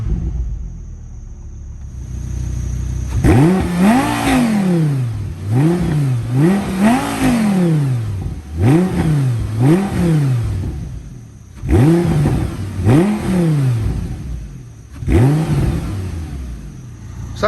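A 2010 Audi R8 V10 with its stock exhaust revs repeatedly while stationary, loud close blips rising and falling in quick sets, separated by brief idle pauses.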